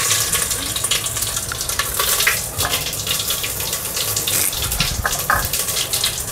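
Cumin seeds and bay leaves sizzle steadily in hot oil in a pan, a continuous close frying crackle with faint clinks, no talking over it.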